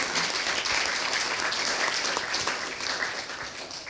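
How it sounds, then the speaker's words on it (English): Dense, sustained applause from an audience at the close of an academic talk on values, systems and economic problems, even and fairly loud throughout, with no voices over it. "Let's give a big round of applause to both of them."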